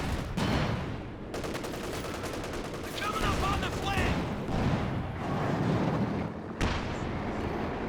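Battlefield combat in Company of Heroes 2, with booming pack howitzer shots and dense gunfire overlapping into a continuous roar and sharp blasts, while a voice talks throughout.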